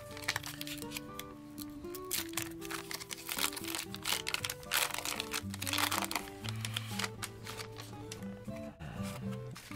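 Foil wrapper of a Pokémon Paldean Fates trading card pack crinkling and crackling in close, irregular bursts, running under steady background music.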